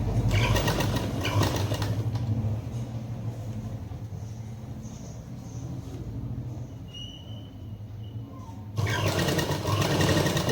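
A sewing machine stitches a facing onto a round neckline, giving a quiet, steady motor whir in stretches with brief pauses and no talking.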